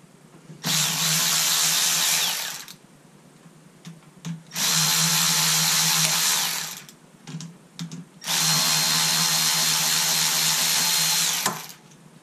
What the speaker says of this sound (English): once you take these two 10mm bolts off of the tensioner